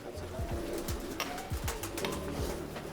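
Rampuri pigeons coo repeatedly in soft low calls, several birds overlapping at close range against a noisy background with faint voices.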